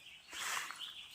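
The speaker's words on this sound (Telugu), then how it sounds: "చుట్టూ పక్షులు భలే అరుస్తున్నాయి" Birds call in a forest, with a few faint chirps and tweets heard at a distance over a quiet background during a brief moment.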